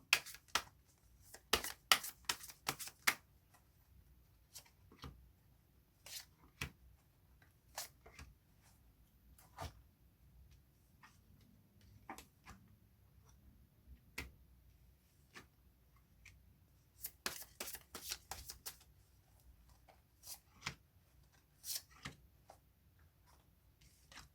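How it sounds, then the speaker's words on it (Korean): Tarot cards are shuffled and drawn, producing soft, quick clicks and flicking riffles in clustered bursts with quiet gaps, close and low in level, with no talking. "추가 카드를 통해 뽑아보도록 할게요"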